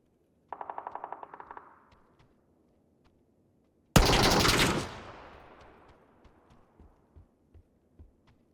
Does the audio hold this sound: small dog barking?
no